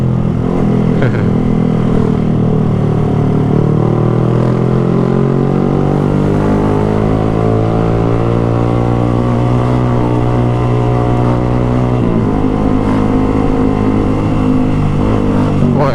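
A motorcycle rides along a road in traffic, a loud continuous engine drone with shifting pitch as it slows and speeds up, heavy wind noise throughout.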